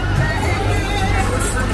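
Dense, loud crowd hubbub at the Diwali Mahotsav fair in Rudrapur, Uttarakhand, a steady wash of many overlapping voices and general bustle with no single speaker standing out.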